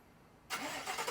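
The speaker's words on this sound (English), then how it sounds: "if you want to remote start your truck, you're going to go ahead and hit lock once," A GMC Sierra pickup truck's engine fires up on remote start, a sudden loud crank and catch that settles straight into a steady, rumbling idle close by.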